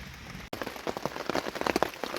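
Steady rain drumming on a tent at a motorcycle campsite in a Kentucky national forest, a dense close patter that cuts out for an instant and then resumes heavier, with no one speaking.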